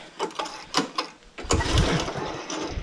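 A Husqvarna petrol lawn mower idles at low throttle: a few sharp mechanical clicks and knocks, then a rough, steady engine chug that continues close by to the end.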